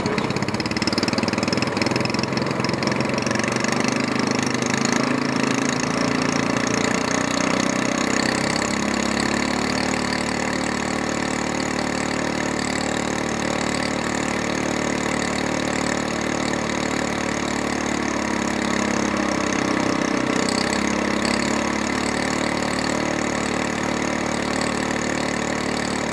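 An engine fitted with an SPS Longtail exhaust header runs steadily on a test run, a loud continuous idle drone with slight rises in pitch and no talking.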